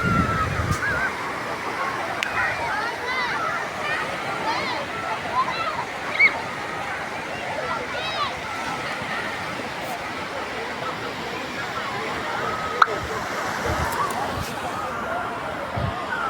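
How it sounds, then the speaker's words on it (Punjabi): Sea water and waves wash against the English seaside in a steady, broad rush of surf, with faint background voices mixed into the continuous roar. "ਤੁਸੀਂ ਪਾਣੀ ਦੀ ਆਵਾਜ਼ ਸੁਣਿਓ"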